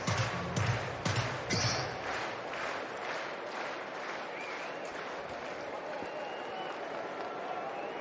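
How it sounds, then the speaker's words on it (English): A ballpark crowd at a Nationals–Dodgers baseball game claps in a loud burst of distinct beats at first, which then fade into a broad, steady stadium roar. "clap, clap, clap your hands"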